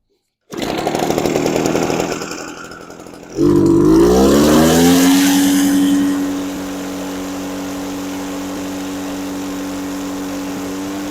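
An Echo PB413H backpack leaf blower with suspected cheap replacement parts cranks, catches and fires, its two-stroke engine revving loudly before settling into a steady, close idle drone that runs alone to the end.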